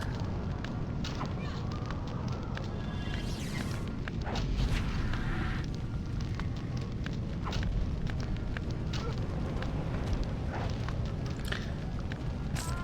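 Fire crackles and roars steadily through a Summoner game scene, a dense continuous rumble with scattered sharp pops and crackles, loud and close throughout.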